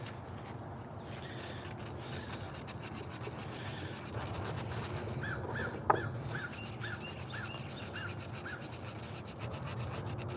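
Crows cawing outdoors in a repeated series of short calls at moderate distance, over a steady rubbing, rasping background from spoon and scoop carving, with one sharp knock midway.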